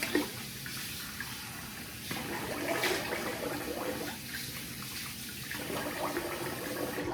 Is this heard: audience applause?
no